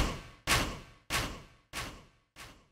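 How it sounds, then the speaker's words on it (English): Four evenly spaced heavy stomp hits from the chorus of a song, each a sharp thud with a decaying tail, fading slightly in loudness. "We have this stomp effect."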